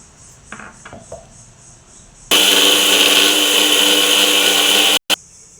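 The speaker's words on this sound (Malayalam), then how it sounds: "ആദ്യം നമുക്ക് ഇതൊന്ന് അരച്ചെടുക്കാം വെള്ളം ഒഴിച്ചിട്ട്" A mixer grinder grinds cumin seeds with water for a jackfruit seed curry, starting abruptly as a loud, steady whirring roar that holds for under three seconds, stops, gives a brief restart, then cuts off, after a few soft handling knocks.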